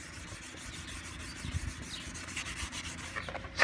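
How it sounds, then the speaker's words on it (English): Fine 1500-grit sandpaper rubbed back and forth over a plastic headlight lens, a steady soft abrasive scratching that continues throughout at close range with no talking. "sand around"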